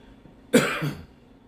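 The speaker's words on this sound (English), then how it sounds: "But I'm developing a cough, which I'm not excited about." A single short, harsh cough, close and fairly quiet, in an otherwise silent room.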